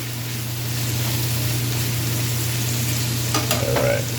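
Onions and mushrooms fry in a pan, giving a steady, even sizzling hiss with a low constant hum beneath and a few faint clinks near the end; no one speaks.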